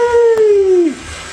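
A Roomba robot vacuum cleaner runs indoors with a steady whirring motor hum that drops and winds down near the end.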